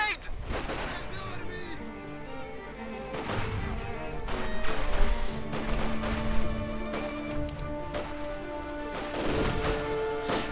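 Battle sounds from a real-time strategy war game: repeated gunfire bursts and booming explosions, including a grenade blast, under layered game effects and shouted voice lines, dense and continuous.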